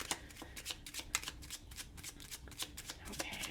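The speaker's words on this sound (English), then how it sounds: "now we'll pull some fortune telling cards and see what Spirit has for you." Fortune telling cards are shuffled by hand, a rapid close run of papery riffles and flicks that continues steadily throughout.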